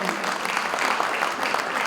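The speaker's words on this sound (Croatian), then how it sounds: "aplauz za Ivo, molim vas" Audience at a live concert in Stara Pazova applauding for a man, a dense burst of crowd clapping and cheering with voices mixed in, loud and close throughout.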